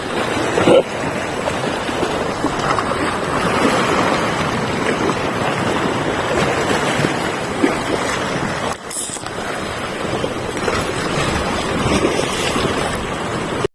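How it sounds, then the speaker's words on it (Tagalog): Ocean waves rush and churn around a small fishing boat near Karabaw Island, a steady loud wash mixed with wind buffeting the microphone and one brief sharp knock partway through. "Kasi medyo lumalakas na yung ano, yung alon."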